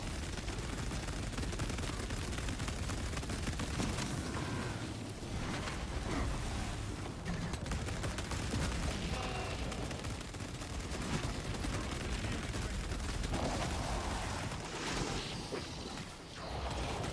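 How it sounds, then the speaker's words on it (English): Continuous heavy gunfire and explosive bursts in a shooter video game, loud and dense throughout with rapid, overlapping shots and no pauses. "I guess I'll just shoot him."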